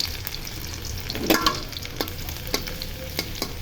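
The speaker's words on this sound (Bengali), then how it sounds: "তেল গরম হয়ে গেছে, এখন রসুন ভেজে নিব।" Chopped garlic and dried red chilli sizzle steadily in hot oil, with a few sharper spatters and stirring scrapes, close and fairly loud, with no talking.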